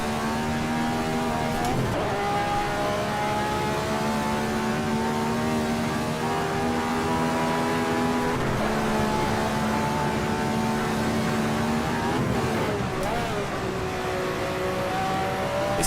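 Race car engines roar in the Assetto Corsa driving game, a steady loud drone with sustained harmonic whine that rises and falls through several gear shifts and throttle changes, with no talk over it.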